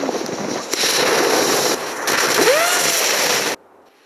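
A fuse-lit firecracker bursts in packed snow outdoors, giving a loud crackling, sputtering blast of about three seconds that stops abruptly, leaving near silence.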